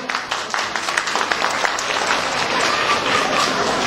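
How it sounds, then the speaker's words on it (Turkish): Applause from a crowd at a Turkish gathering after a prayer, dense steady clapping filling the whole stretch at moderate loudness, with faint voices mixed in. "Alkış gelsin"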